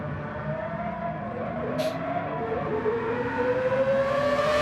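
A Mazda 787 race car in GT Sport racing past, its high, rising engine tone swelling steadily louder over a dense, continuous roar of other cars on track, with a brief sharp high burst near the middle.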